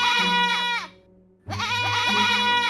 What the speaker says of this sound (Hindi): वो बकरी जोर से मिमियाई। उसकी आवाज सुनकर बाकी 9 बकरियां भी चिल्लाने लगी।